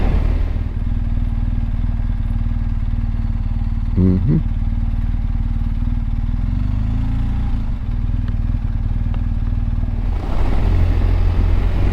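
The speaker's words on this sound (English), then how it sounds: "keeping the balance on the motorcycle because it's so steep forwards" A motorcycle rolls down a steep village road in Norway in second gear with the throttle closed, its engine a steady low drone under constant wind rumble, with a brief clatter partway through and a louder rush near the end.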